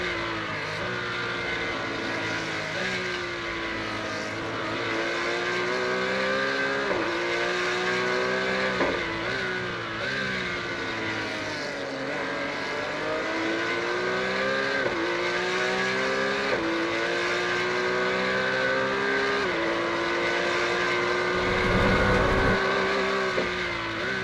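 Porsche race cars lap the Imola circuit in a racing video game, a continuous engine drone whose pitch climbs and drops with each gear change, steady and close, with no voices.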